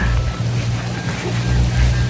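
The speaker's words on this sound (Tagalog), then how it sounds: "Lakas kasi ng hangin din." Strong wind buffets the scene on open water near a boat, a steady broadband roar with low rumbling gusts and a constant low hum beneath.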